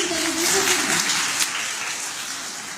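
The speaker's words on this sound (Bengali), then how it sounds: "আরেকটা বড় হাততালি কি আমরা দিতে পারি?" An audience applauds at a student puppet show at the British Council cultural centre, a dense wash of clapping that swells early and slowly fades over a few seconds.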